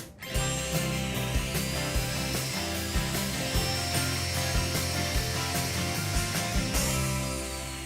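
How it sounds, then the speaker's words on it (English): A saw cuts through an MDF board to size, running steadily and loudly for the whole stretch with a continuous rasping, humming drone. "So I've cut my MDF to size"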